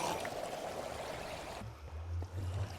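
Steady stream of flowing water in the Minecraft video game, a broad rushing wash that cuts out partway through, leaving a quieter low gurgle.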